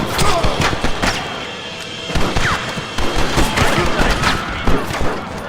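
Chaotic Red Dead Redemption gunfight with a volley of overlapping gunshots cracking throughout, sharp bursts bunched in several clusters, loud and close amid the battle din.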